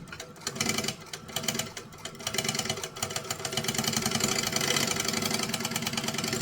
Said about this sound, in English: And again, I'm sewing bottom to top.